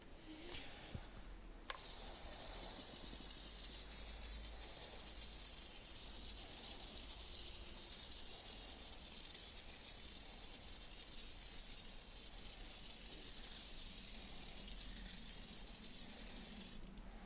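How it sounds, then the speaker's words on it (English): A hand-pump IK foamer sprays AutoFinesse Avalanche snow foam in a steady, loud hiss that runs almost unbroken after a short start, with no talking. "I'm going to show you the difference between a pressure washer and the IK foamer we were talking about. So you pump it up and give it some pressure."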